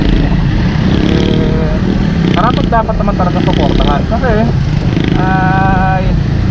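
A Suzuki Raider 150 carbureted motorcycle engine drones steadily and loudly on the road, with a continuous rumble while someone speaks over it.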